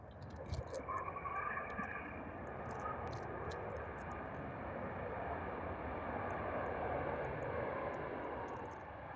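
A Ryanair jet comes in to land at Liverpool Airport, a faint, distant, steady engine roar with wind noise and a few short bird chirps.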